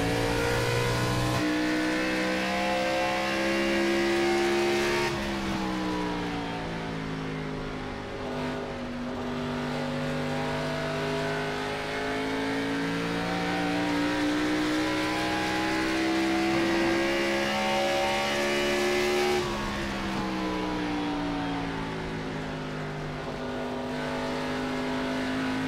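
A NASCAR Cup car lapping Phoenix in the iRacing simulator, its engine a loud sustained drone that rises and falls in pitch through shifts and corners, heard alone with no voices.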